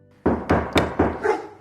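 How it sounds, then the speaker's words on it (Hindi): A dog barks five times in a steady series of loud, close, sharp barks, spaced about a quarter second apart, with no talking over it. "क्या ये सारा दिन ऐसे ही भौंकता रहेगा?"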